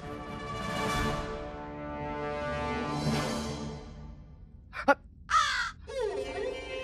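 A crow caws loudly and harshly in two long drawn-out calls, followed by a few sharper, shorter bursts of sound, with no talking over it.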